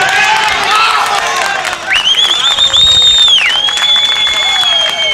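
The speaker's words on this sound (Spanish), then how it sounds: "Aplausos para Mario" Onlookers greet a rescued miner's arrival at the Chilean mine rescue with clapping and cheering, loud whistles cutting through the crowd noise and voices mixed in.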